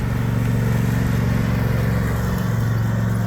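A riding lawnmower driven along a street drones at close range, loud and steady, with no other sound heard.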